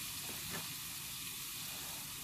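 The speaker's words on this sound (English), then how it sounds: "ginger, the garlic and the onions infusing. You only need to let that fry for about 30 seconds." Ginger, garlic and onions fry in hot oil in a pan, giving a loud, continuous hissing sizzle with no pauses or voices.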